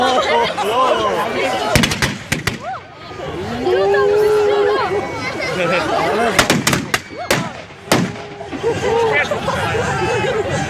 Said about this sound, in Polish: to jest taka malutka armata.